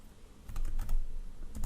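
Typing on a computer keyboard while entering a new category in an eBook authoring program, a quick close run of soft key clicks.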